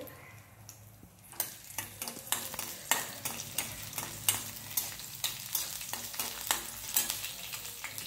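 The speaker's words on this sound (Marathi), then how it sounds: "तेल गरम झाले, त्यामध्ये हिरवी मिरची टाकली" Green chillies fry in hot oil for a leafy purslane vegetable dish. A quiet sizzle runs under rapid, regular spatula scrapes and taps against the pan, close up and with no voices.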